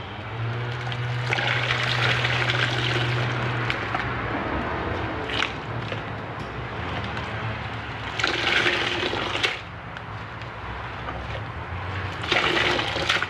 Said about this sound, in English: just watery squeezes are just so like juicy